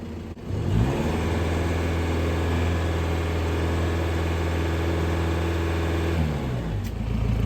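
A Volkswagen Amarok 2.0 BiTDI diesel, just repaired after a P0087 fuel-pressure limp-mode fault, runs close by with a steady, even hum; its tone shifts near the end and then settles again.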